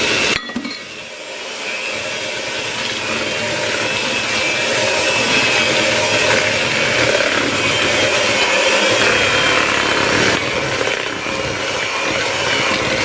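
An electric mixer switches on and mixes fig muffin batter with a loud, steady whirring motor drone that holds for several seconds, close up. No voices are heard.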